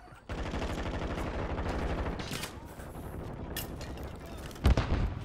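Gunfire in the shooter game Warzone 2.0: a rapid automatic burst of evenly spaced shots, loud and close, followed by scattered reports and a heavy thud near the end.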